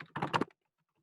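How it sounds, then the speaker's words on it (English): Quick burst of keystrokes on a computer keyboard, about half a second of close, clicky typing followed by silence. "I'm not going to bother to correct my typing"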